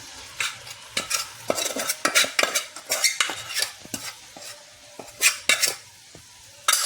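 Dry sewai vermicelli tipped into a pan for Lucknow-style kimami sewai and stirred, giving irregular bursts of scraping, clinking spoon-on-metal strokes with a faint sizzle, close and with no talking.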